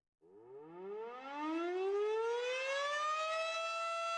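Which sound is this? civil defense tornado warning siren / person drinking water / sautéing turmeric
civil defense tornado warning siren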